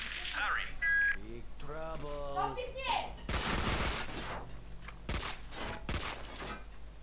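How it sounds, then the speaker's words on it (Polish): Gunfire in the video game Max Payne 2, a few short sharp bursts of shots in the second half, mixed with in-game voices and someone talking over the action. "bo ktoś w ciebie strzela, kolego"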